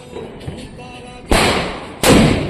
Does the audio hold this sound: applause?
no